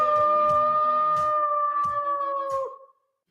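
A wolf howl sound effect in a radio ad for the Howlers baseball team: one long, steady, wavering howl lasting about three seconds, loud and alone, with faint beats underneath before it fades out.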